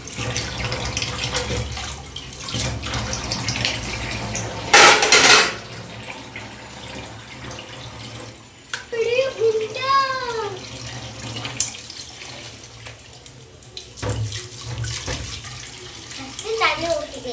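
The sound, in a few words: washing dishes under running tap water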